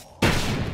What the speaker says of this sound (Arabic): هذه بينها اطلاق نار